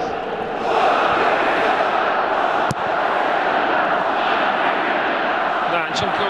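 Crowd of spectators at a Dynamo Kyiv versus Chornomorets Odesa football match in a stadium, clapping and cheering as a broad, steady roar from a distance, with a commentator talking over it.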